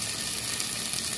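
Onion, tomato and garlic sauté in a hot pan with a loud, dense sizzle that holds steady and unbroken for the whole short stretch.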